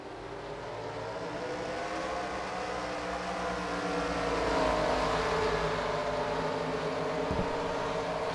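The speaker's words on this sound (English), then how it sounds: "Drivers, start your engines!" Race car engines drone in a NASCAR-style racing video game at Atlanta, a steady layered engine hum that swells gradually in the middle and stays constant, with no talking.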